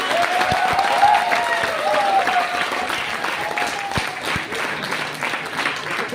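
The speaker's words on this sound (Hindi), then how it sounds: "तालियां होनी चाहिए सिस्टम के लिए।" An audience claps at a motivational talk, a burst of applause with a voice carrying over it before the clapping thins out.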